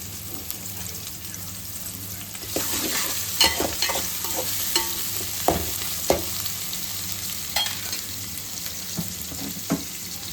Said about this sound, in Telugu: ఆయిల్ వేసుకొని దాంట్లో ఉల్లిగడ్డ యాడ్ చేసుకోవాలి.